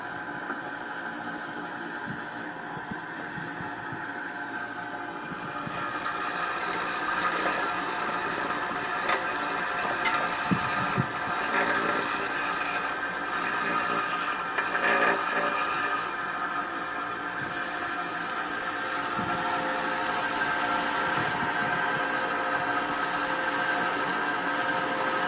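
A Paoloni brick cleaner machine processing salvaged construction and demolition bricks gives a steady, close mechanical drone with rattling and clattering layered throughout, continuous and fairly loud with no voices.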